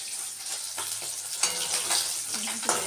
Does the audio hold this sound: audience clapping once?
no